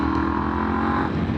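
A KTM 790 Adventure S motorcycle engine with a full Akrapovic exhaust running steadily, a loud, close, continuous engine drone with a slight rise in pitch, no talking.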